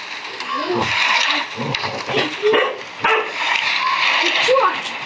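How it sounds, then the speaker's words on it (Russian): A dog barks and yips in short bursts in the video game Metel, chapter 3, mixed with a voice talking, with several sharp accents scattered through. "Вот, слышите, как он гавкает?"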